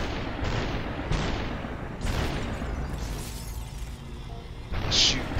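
Assault rifle gunfire in the game Superhot, repeated sharp shots and booming bursts spaced through the stretch, loud and close, with a bright metallic hit near the end.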